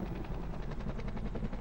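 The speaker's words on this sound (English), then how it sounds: "the sound of chopper blades loomed loud" Military helicopter rotor blades at a jungle landing zone chop in a steady, loud, close rhythm, with a dense engine rumble underneath and no voices.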